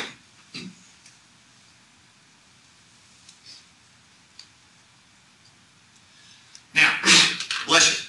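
A single sharp sneeze bursts out in a lecture classroom during a class on T-beam design, loud and close, after a quiet stretch with a smaller noise near the start.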